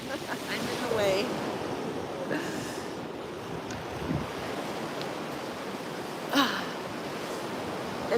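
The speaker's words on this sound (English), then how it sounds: "The water's so stormy." Stormy ocean surf at a beach at low tide, a continuous roar of waves with wind buffeting the microphone and faint voices in the background.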